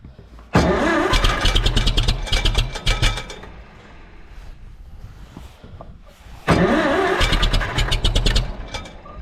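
A Farmall M tractor engine cranks and catches twice, each time bursting into loud, close, rough sputtering running that fades back between attempts.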